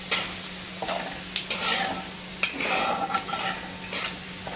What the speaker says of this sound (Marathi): तर जिरं आपल्याला छान असं तडतडायला पाहिजे।